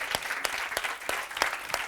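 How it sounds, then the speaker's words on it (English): An audience at a talk on letting go and moving on applauds, with distinct rhythmic claps that stay fairly soft and close for about two seconds. "Big round of applause."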